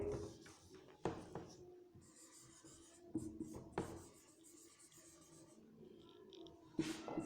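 Pen or marker writing numbers by hand in short form for a place-value lesson, a quiet scratchy scribbling with a few sharp taps, close and alone with no talk.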